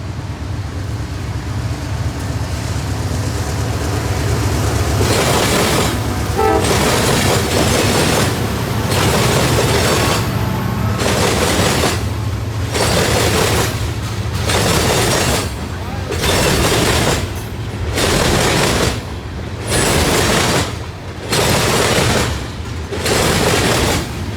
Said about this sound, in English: CSX failed to disappoint with Q455, a southbound manifest to Taft